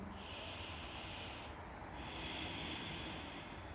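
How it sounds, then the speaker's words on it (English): A slow, deep inhaling breath during a yoga flow, a soft sustained airy rush that swells, dips briefly and continues, close and quiet. "One more deep breath in."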